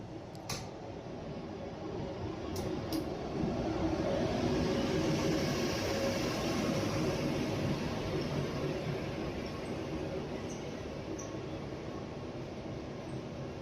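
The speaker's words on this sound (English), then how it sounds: "And here our train comes, fresh from the depot just north of Stockholm." A low, steady rumble of an SJ EuroNight passenger train rolling into a Stockholm station, building slightly then holding, with faint high squeals and clicks in the distance.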